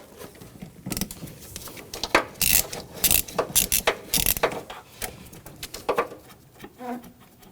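A ratchet with a 13mm socket works a nut loose on a 2006-2010 Hummer H3 with a 3.7L engine, giving close, loud bursts of rapid clicking with short pauses between strokes.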